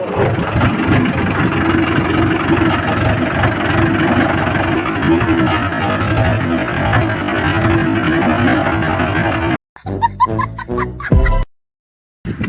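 A farm tractor engine runs at a steady idle close by, a continuous, loud rumbling drone lasting about nine and a half seconds, followed by a few short, choppy bursts and a brief silence.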